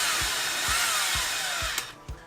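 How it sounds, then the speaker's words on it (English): A Milwaukee M18 cordless drill, its clutch being turned down during work on an RC truck differential, whirs in a steady high-pitched drone with soft regular knocks underneath before spinning down at the end. "Let's turn the clutch down on this poor drill."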